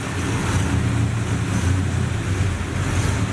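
A 1981 Trans Am pulls away in gear, its engine giving a steady, loud low rumble mixed with broadband road and wind noise, no voices.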